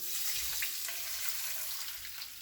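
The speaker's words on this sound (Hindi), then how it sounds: "इसमें मैं ऐड करूँगी 1 कप पानी" Water pours steadily into a pan on a medium flame while garlic potato bites are being made, a continuous close splashing stream lasting throughout with no talk.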